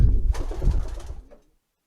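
Rare coloured pigeons coo loudly and close by as they are placed into nest boxes, with throaty calls overlapping for over a second before fading to silence.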